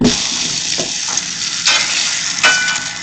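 Bacon frying in a pan on a camping trip, with a loud steady sizzle and crackle and a few brief stirring scrapes, all alone and close up.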